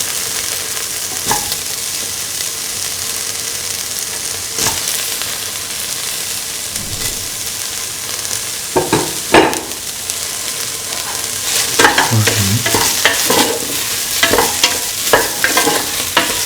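Soya chunks are stirred and mixed in a sizzling pan for an egg, carrot and coconut milk stew, with a steady frying hiss under repeated spoon scrapes that grow busier and more frequent toward the end.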